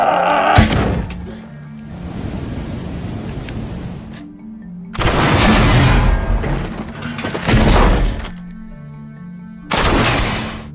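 Gunshots fired by American soldiers at a target in a sniper war film: several loud, sharp blasts, each trailing off into a broad rumbling roar, spaced a few seconds apart with no talk.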